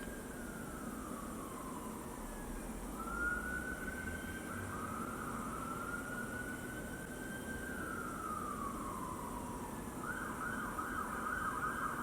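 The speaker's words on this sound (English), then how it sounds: "There's a siren." A distant siren wails up and down steadily over continuous traffic rumble and background noise, no voices.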